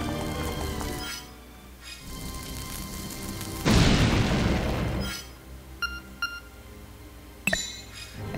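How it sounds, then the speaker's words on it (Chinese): A bomb goes off with a loud broadband burst in the Zelda: Link's Awakening video game, lasting about a second and a half amid game music, followed by short electronic beeps and a sharp pop. "又要用我的炸弹？"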